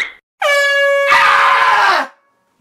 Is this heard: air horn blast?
yes